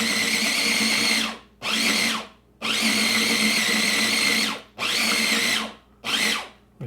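Food processor pulsing as it grinds shrimp, five loud whirring bursts of a second or two each, separated by short pauses, with no talk.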